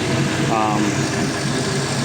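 A 5.3-liter LS truck engine runs on a test stand, giving a steady, loud idling drone with constant low vibration and a brief higher whine partway through.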